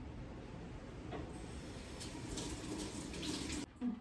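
Water runs steadily from a tap as something is rinsed in a village kitchen during homemade cheese making, a soft continuous splashing with a short clatter near the end.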